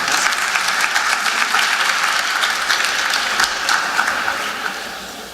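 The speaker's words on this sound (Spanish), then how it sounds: "Un aplauso para el doctor." An audience at a talk on NaProTechnology applauds a doctor, a dense, sustained burst of clapping from many hands that fades slightly toward the end, with no talking over it.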